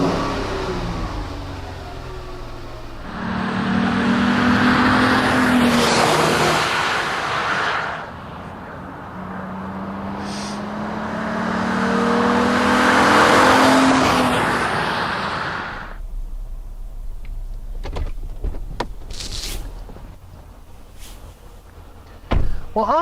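A 2011-2014 Jeep Grand Cherokee or Dodge Durango engine fitted with an AIRAID intake, revving in two long swells at steady mid volume, then dropping to a rough idle with a few sharp clicks near the end.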